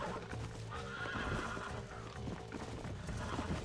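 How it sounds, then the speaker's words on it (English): Horse in Red Dead Redemption 2 whinnying as its hooves clip-clop steadily nearby, a busy continuous mix of neighing and hoofbeats with no speech. "Come on, calm down, horse."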